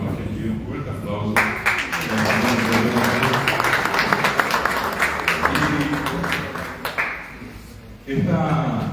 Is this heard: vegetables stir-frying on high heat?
no